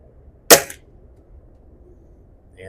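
A single sharp crack from a spring-piston air rifle, an Air Arms TX200 or Weihrauch HW77K, firing a pellet, loud and close, followed by quiet room tone and a faint tick near the end.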